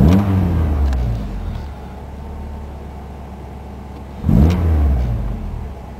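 A Ford ZX2 car engine idles steadily with a close, loud throttle blip at the start and another near the end, each revving up briefly before dropping back to the idle.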